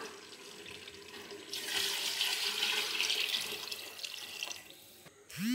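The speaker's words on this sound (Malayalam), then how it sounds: "തിളച്ച വെള്ളം ചേർത്ത് കൊടുക്കാം" Boiling water gushes into a vessel of rice for kabsa for a few seconds, a rushing pour that swells then tapers, followed by a short clatter.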